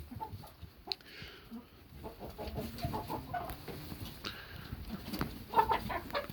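Buff Orpington and barnyard mix hens clucking softly in a small flock, scattered low murmuring clucks close by, fairly quiet throughout.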